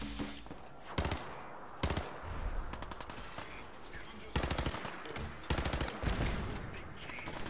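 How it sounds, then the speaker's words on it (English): Machine gun fire in Fallout 4, several loud automatic bursts of rapid shots separated by short pauses, up close over quieter game ambience. "I'm just gonna attack him with a machine gun."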